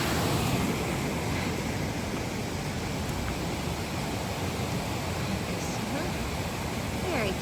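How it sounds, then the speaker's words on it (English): A creek swollen with spring water rushes through the Smoky Mountains in a steady, broad hiss that stays loud and unbroken throughout, heard close with no pauses and no talk over it. "The creeks are up."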